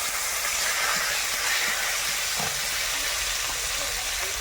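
Pumpkin pieces hit hot mustard oil in a wok with five-spice seeds, bay leaf and chopped onion, giving a steady, close broadband hiss and sizzle that runs evenly throughout with no talk.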